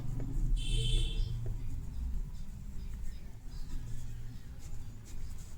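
Strokes of writing on a board during a Hindi geometry lesson, faint scratchy marks over a low background hum.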